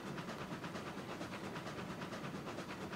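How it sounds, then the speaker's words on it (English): Steady rhythmic chuffing of a small steam locomotive engine running in the game Railroads Online, continuous and fairly close, with regular pulsing beats and no talk. "I like the sound of this engine."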